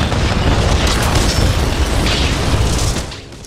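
A called-in strike detonates in a video game, a loud, sustained explosive roar and rumble filling the soundscape for about three seconds before tapering off.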